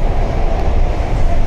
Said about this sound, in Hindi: चलो चलो मेट्रो आ गई